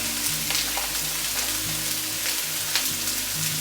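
Green garden peppers hitting a hot pan of sausage with a little bacon grease, giving a steady close sizzle and frying hiss with faint stirring and scraping throughout.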